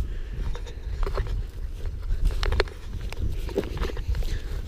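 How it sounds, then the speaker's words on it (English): Steady clip-clop of hooves with scattered sharp clacks over a low rumbling background, several horses moving at once nearby in a video game. "Oh god, there's horses everywhere."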